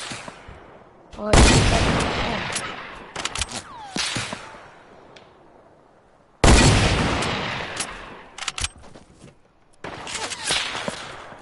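Video game gunfire in loud, dense bursts of rapid shots, two long volleys with scattered single cracks between them, close and dominant, with a player's brief voice heard in a quieter gap.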